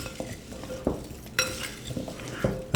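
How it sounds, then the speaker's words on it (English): Purple sweet potatoes tossed with extra virgin olive oil and seasoning in a bowl, heard as close, repeated scraping and clinking strokes of a utensil with a soft wet shuffle, no voices. "I'm just going to mix this up, get the seasoning mixed in there well"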